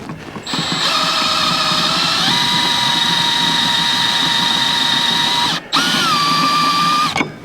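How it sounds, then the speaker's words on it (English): A step drill at slow speed bores into a metal fuel tank, giving a loud, sustained whining drone with shifting pitch, briefly stopping and restarting before the end. "Now we will take our fancy dancy step drill on the slow speed and turn in the right direction."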